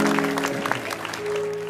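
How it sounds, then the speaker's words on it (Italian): Studio audience applause on a Sicilian television show, a brief burst of clapping mixed with background music tones. "Un applauso alla famiglia Lo Cicero"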